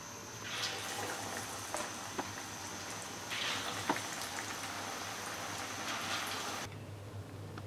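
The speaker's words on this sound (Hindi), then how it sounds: "इसी तरह ये जो बाकी मिक्सचर पड़ा हुआ है उसको भी हम फ्राई कर लेते हैं।" Pumpkin and onion pakora batter fries in oil with a steady, even crackle and bubbling hiss, broken by a few sharper pops; the sizzle thins and drops away near the end.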